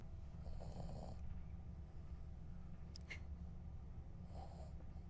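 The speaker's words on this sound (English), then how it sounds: "She is straight up snoring." Low, rumbling snoring from a sleeping dog, steady and close, with a couple of soft snorts and a brief sharp noise partway through.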